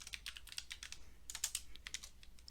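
Quiet, rapid typing on a computer keyboard, a close run of light clicking keystrokes in quick bursts with no voices.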